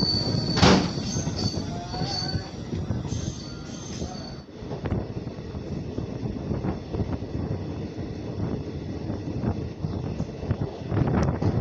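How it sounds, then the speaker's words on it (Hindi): Passenger train running on tracks after departing Barahat Junction in India, a steady rumbling roll with squealing wheels and a brief high whistle-like tone early on, sustained and close with no talk. "बाराहाट जंक्शन से अपनी ट्रेन का डिपार्चर हो चुका है"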